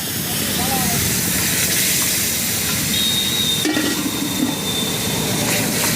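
Gravy poured into a hot pan of frying egg curry at a roadside dhaba, giving a loud steady sizzling hiss that flares and then settles, with kitchen clatter around it.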